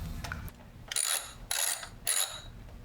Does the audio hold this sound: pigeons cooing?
no